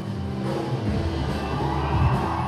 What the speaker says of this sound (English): Wow, hear the screaming.